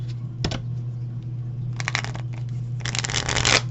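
Tarot cards being shuffled in short riffling bursts, one brief snap near the start and then two longer runs of papery flicking, close by, over a low steady hum, with no talk.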